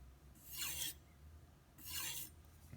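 Two slow, soft rasping strokes of a knife edge drawn along a leather strop, quiet and close, with a pause between them.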